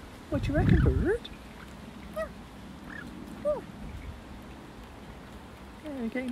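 Short, high chirpy calls from a small bird, a few scattered peeps over quiet room noise, following a brief low burst at the start.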